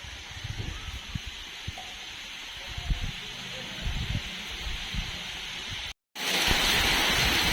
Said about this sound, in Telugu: వాన అయితే విపరీతంగా కొడుతుంది ఫ్రెండ్స్, చాలా ఎక్కువ కొడుతుంది ఇప్పుడైతే